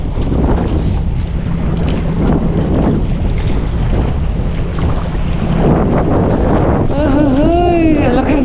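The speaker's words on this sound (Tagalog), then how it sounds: "Ay, laki ng alon." Big waves slap and rush around a small fishing boat under heavy wind buffeting the microphone, with loud continuous roaring water and a wavering motor-like whine near the end; no clear speech.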